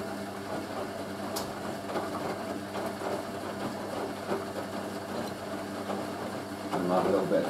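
A Hoover A3060 Electronic 1100 washing machine on its dilution rinse churns and whirs with a steady mechanical drone and soft sloshing, medium-close, a brief tick early and a louder swell near the end.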